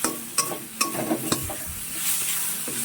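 Chopped onions and tomatoes fry in oil in a pan, a bright sizzle punctuated by several quick scraping stirs early on, then a smoother hiss.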